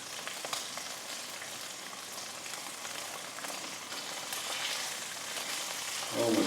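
Garlic cloves fry in a pan with a steady, soft oil sizzle that sounds close and fairly quiet, swelling slightly louder near the end.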